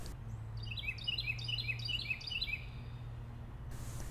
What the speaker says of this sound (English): Do you see the bird in the bottom right-hand corner?